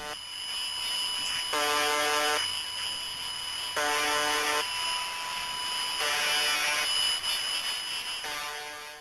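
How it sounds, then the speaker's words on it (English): UVB-76 shortwave buzzer broadcast from a transmitter in Russia: loud, harsh buzzing tones repeating in roughly one-second bursts over a steady hiss and carrier whine, with no voices. "The first one of note is UVB 76, and it appears to be a broadcast from a transmitter in Povario, Russia."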